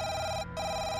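Telephone ringing, a loud steady electronic trill with one brief gap, heard alone and close.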